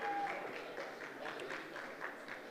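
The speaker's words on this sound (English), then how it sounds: "Don't stop clapping. Keep clapping. Make it louder." Audience clapping at a school graduation ceremony, a moderately faint, steady patter of many hands with no clear voices.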